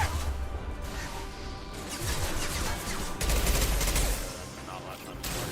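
Heavy gunfire in the video game Mass Effect 2 rattles in dense, continuous bursts with crashing impacts and whooshes, loud and close, while in-game voices call out over the din.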